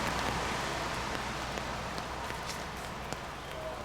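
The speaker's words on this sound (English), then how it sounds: "The rain is really starting to come down." Steady rain pours down at an outdoor disc golf tournament, a constant dense hiss with a few faint taps, and no voices over it.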